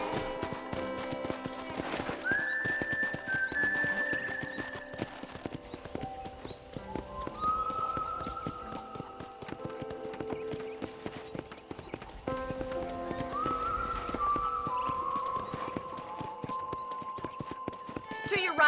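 Horse hooves clip-clopping steadily at a riding gait in the video game Red Dead Redemption, a continuous rhythmic patter heard under music and someone talking.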